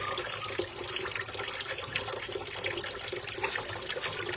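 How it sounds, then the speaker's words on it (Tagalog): Dishes being washed by hand under running water, a continuous moderate splash and trickle with faint clinks of plates, no voices. "Maghugas din kayo katulad ng ginagawa ko ngayon"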